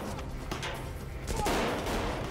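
Gunfire in an urban street battle in an alley, a muffled burst of rapid shots and cracks echoing off walls, moderately distant and brief, with no voices.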